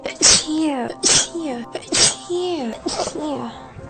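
A sudden sneeze, followed by drawn-out, moaning, comic vocal sounds that repeat in several bursts, loud and close, with no other background.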